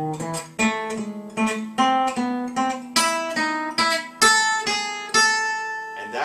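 Acoustic gypsy jazz guitar plays a lower neighbor lick, a string of close, plucked notes with bright harmonics, alone and fairly loud with repeated picked attacks.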